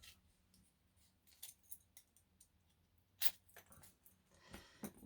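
Scissors snip out a small piece for handmade gnome boots, quiet close cuts and crisp clicks in irregular bursts with soft handling rustle between.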